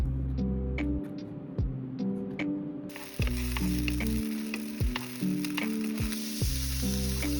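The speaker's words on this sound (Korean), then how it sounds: "이날은 중국식 볶음을 했습니다." Food sizzles loudly in a hot pan while utensils scrape and clack against it at irregular intervals, a busy Chinese-style stir-fry with no talking.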